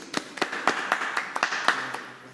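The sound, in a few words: audience clapping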